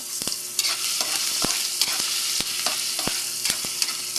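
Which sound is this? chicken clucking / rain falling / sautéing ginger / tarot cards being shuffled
sautéing ginger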